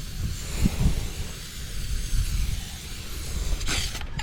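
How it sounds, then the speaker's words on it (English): Spray can hissing out silver metallic Rustoleum paint for a fade, a continuous close hiss with slight variations and a brief louder burst near the end. "We'll get back with the spray here and just kind of fade it."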